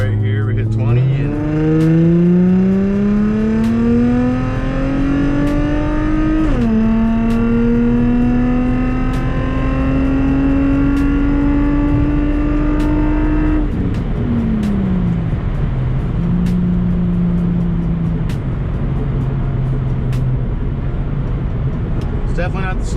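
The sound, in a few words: Infiniti G35 sedan accelerating from a 20 mph roll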